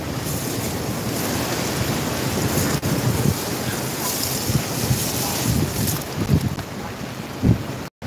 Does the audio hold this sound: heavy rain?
yes